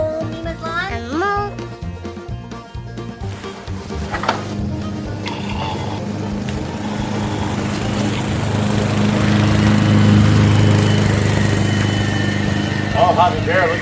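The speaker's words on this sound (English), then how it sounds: "Hobby baby, you gonna mow Mima's lawn?" A child's ride-on toy lawn mower runs with a steady mechanical motor drone that grows louder and holds throughout, while adults talk and a high toy voice chirps at the start.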